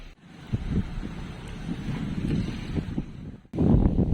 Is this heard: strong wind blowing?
yes